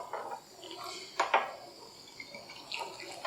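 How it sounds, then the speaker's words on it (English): A drink topped with ginger beer being stirred, with light pouring liquid and quick clinks of a spoon against glass, close and fairly quiet. "So I'm just going to top this drink off and then give it a stir."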